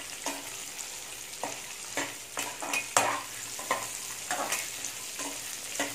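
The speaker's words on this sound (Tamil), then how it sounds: "எல்லாமே ஒன்றாவே ஃப்ரை ஆகிடட்டும்." Spice paste ingredients for a raw jackfruit kurma frying together in a pan, a steady close sizzle broken by repeated scraping stirs, with no talk.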